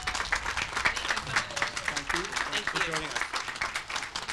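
Crowd applause at an outdoor Memorial Day ceremony at Abraham Lincoln cemetery as Congresswoman Lauren Underwood steps to the podium: dense, steady clapping for a few seconds, with faint voices mixed in underneath.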